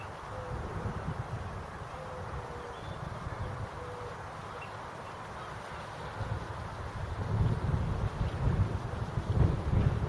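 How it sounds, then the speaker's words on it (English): Gusting wind by the Gorleston River buffets the microphone with a constant low rumble and hiss, swelling louder and rougher toward the end, with no voices. "Wind keeps gusting up."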